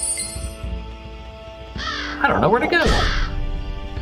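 Crow cawing in the video game The Vagrant, a few harsh caws in the second half, loud and close, with someone talking over the game sounds.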